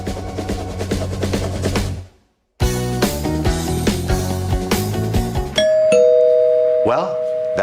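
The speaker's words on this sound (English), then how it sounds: "Well, that sounds like the doorbell." A doorbell rings out, a clear sustained chime tone near the end that follows busy music with a brief pause, with a voice present under the sound.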